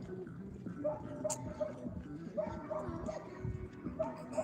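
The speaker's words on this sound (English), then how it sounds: "That's why the dog keeps barking over here." A dog barks repeatedly in the distance outdoors, several short yips spaced irregularly across the moment, faint against background noise with some quiet talk nearby.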